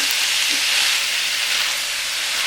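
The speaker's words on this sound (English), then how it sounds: "Have to keep sauteing, let the onion cook, let the fragrance come out." Onion sautés in a pan for a cabbage stir fry, a loud, even hiss of sizzling that runs unbroken for the whole stretch with no voices.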